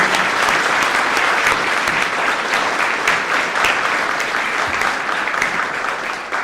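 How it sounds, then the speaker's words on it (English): Sustained, dense applause from a large audience at a youth service awards ceremony, loud and steady throughout and tapering slightly at the end, with no voices on top. "Let's have a round of applause for all the dignitaries who've taken time"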